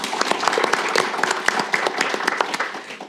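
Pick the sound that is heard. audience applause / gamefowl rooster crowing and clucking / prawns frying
audience applause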